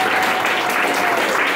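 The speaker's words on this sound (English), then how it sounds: "A little clap, guys." A crowd of students claps steadily at a scholarship award event, dense applause filling the whole short stretch at an even, moderate level.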